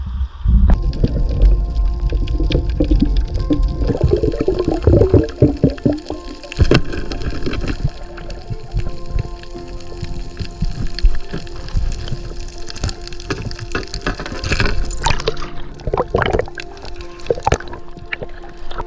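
Underwater at night in the sea off Okinawa during a spearfishing dive, muffled bubbling, clicks and sloshing water movements roll on continuously, loud and close, with low thumps and rustles from the diver's motion.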